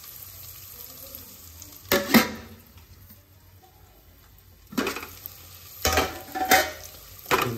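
Vegetables and rice for bagara rice sizzle softly in a pot, with several louder scraping bursts as a spoon stirs against the metal.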